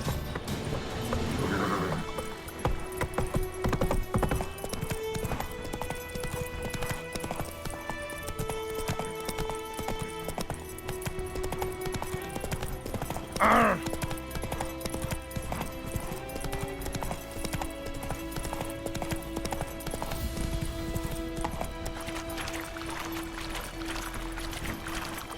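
Roach, a horse in The Witcher 3, gallops with steady, continuous hoof clip-clops over game music, one brief whinny near the middle, no talk.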